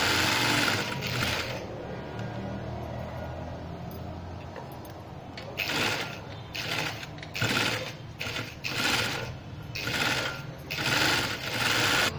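A sewing machine runs in loud, steady bursts while stitching seams on fabric for a baby frock, its fast mechanical ticking pausing briefly between runs.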